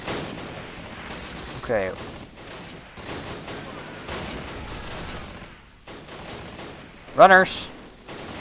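Gunfire in the World War II strategy game Close Combat: The Longest Day, bursts of rifle and machine-gun fire under a continuous battle din, with someone talking over it.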